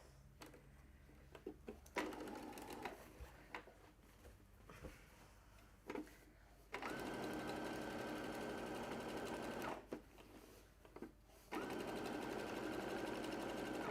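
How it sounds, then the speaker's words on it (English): Sewing machine stitching fabric for an expandable bag, running in steady close whirring bursts of a few seconds each, broken by pauses filled with handling clicks and thumps. "I should be sewing on this side."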